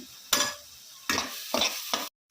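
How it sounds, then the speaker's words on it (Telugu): Onions frying with salt and ginger-garlic paste in a pan for a milk mushroom curry, as four bursts of crackling sizzle and stirring, each stopping short, with no talk. "కొంచెం అల్లం వెల్లుల్లి పేస్ట్ కూడా వేసుకొని పచ్చిబాసు పోయేంత వరకు వేయించుకుందాం"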